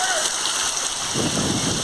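Heavy rain pours down steadily during a storm with strong wind and hail in Odisha, India, a dense hiss of drops on surfaces with no pause.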